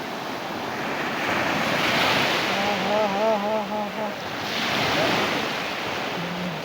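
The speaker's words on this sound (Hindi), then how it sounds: "समुंदर है, पानी है, मज़ा है।" Sea waves roll continuously onto the Saudi Arabian coast in a broad, loud wash that rises and falls, with a brief tonal hum in the background.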